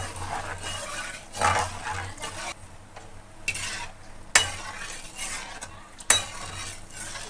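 A spoon stirs cornflour mixture into hot sugar syrup for Karachi halwa, giving soft scraping and gentle bubbling in steady strokes, with a few sharp clinks of metal against the pan.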